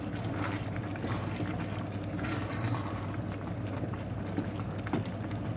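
Simmering curry with cauliflower stirred in a pot, giving a steady close bubbling and liquid churning with soft scraping of the spoon, dense and continuous throughout.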